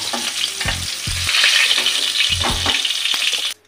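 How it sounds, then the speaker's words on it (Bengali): Pieces of katla fish fry lightly in hot oil, giving a close, loud, steady sizzling crackle. Several soft knocks from stirring or turning sound under it before it cuts off abruptly near the end. "আমি এবার মাছগুলোকে হালকা করে একটু ভেজে নেব, কড়া করে ভাজবো না।"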